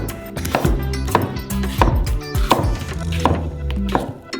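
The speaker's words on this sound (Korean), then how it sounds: "순수한 멜론 과육을 썰어주세요." Knife cutting through peeled melon flesh on a board, a run of firm, regular chopping strokes, close and fairly loud, with soft wet thuds between them.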